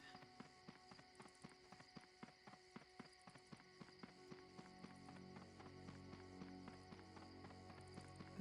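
Horses in the online game Dark Age of Camelot clip-clop in a steady rhythmic trot, hoofbeats sharp and regular, fairly quiet, with a faint ambient wash building behind them.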